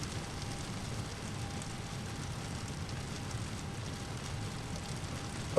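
Continuous rain noise in Microsoft Flight Simulator as an LVFR A21N airliner sits at Orlando (KMCO), a dense, even hiss with a faint engine-like drone under it throughout, no speech.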